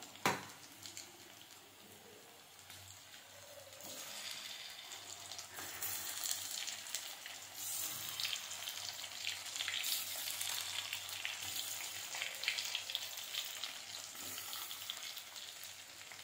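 Cauliflower florets deep-frying in oil for chili gobi, giving a steady, dense crackling sizzle that runs the whole time with occasional sharper pops, close and fairly quiet, without any talking.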